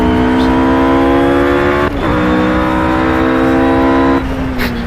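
A steady, loud engine drone with rising harmonic tones from a race car in the video game Project CARS on Xbox One, holding pitch with brief dips.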